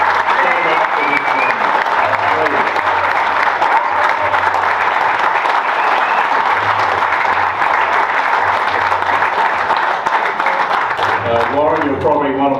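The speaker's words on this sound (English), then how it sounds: "Give him a round of applause." Loud, sustained applause from the audience at a bowlers reunion dinner, continuous clapping close by, with voices speaking over it at times.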